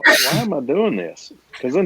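One loud, sharp sneeze bursts out close up, followed immediately by someone speaking.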